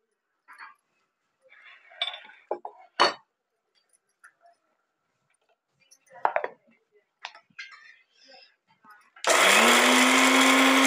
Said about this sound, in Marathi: थंड झालेले, बारीक करून घेऊया.